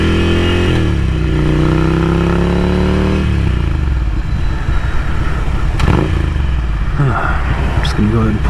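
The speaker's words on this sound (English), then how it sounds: "Definitely more of a muscle bike sound, kind of more deep, throaty, and aggressive." Ducati Scrambler Café Racer motorcycle with a Vance & Hines exhaust, loud and close, idling then revving as it pulls away, a deep throaty rise in pitch with some clattering, fading into road noise.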